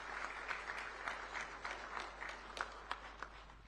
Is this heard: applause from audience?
yes